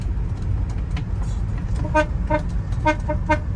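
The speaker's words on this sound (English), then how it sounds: "I'll also hit the horn." Several short horn toots from a 1953 Mercury Monterey Wagon in quick succession, loud and close over a steady engine rumble.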